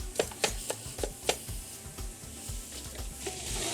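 A knife chops food on a cutting board in a kitchen, with a quick series of sharp, close knocks that thins into lighter taps.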